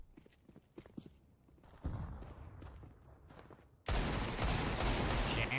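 Desert Eagle pistol fire in a Counter-Strike 2 esports match: sharp shots and footsteps at first, then the gameplay noise swells into a dense, loud burst of gunfire toward the end.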